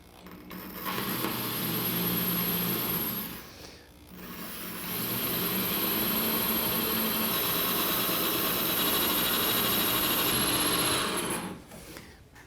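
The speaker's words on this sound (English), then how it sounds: "Let's drill some holes." A power drill bores holes through glazed tile, whirring steadily in two long bursts with a brief pause between, a grinding tone up close with no talking.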